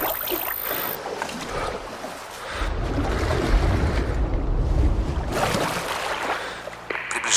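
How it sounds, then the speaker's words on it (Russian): Enemy motor boat from Sniper Ghost Warrior 2 approaching over water, a broad engine rumble and wash that swells in the middle and stays steady and fairly loud, with waves and wind around it. "Приближается катер врага, ныряй."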